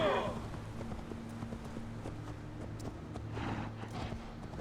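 Hoofbeats of a ridden deer mount in Assassin's Creed Valhalla, a quiet steady clip-clop walking rhythm over a low game soundtrack hum.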